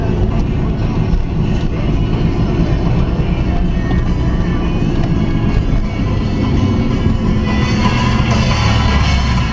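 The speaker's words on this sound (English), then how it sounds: "I'm gonna take it on the freeway and show you how it accelerates." A 2001 Jaguar S-type V8 accelerates on a freeway, its engine a loud, steady low roar mixed with road and wind noise that builds continuously, with no talking.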